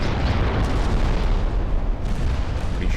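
Heavy, continuous rumbling booms of torpedo explosions in a Korean War naval battle game, dense and loud throughout with no gaps or talk.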